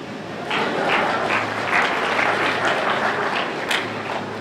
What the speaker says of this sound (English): Where's the applause?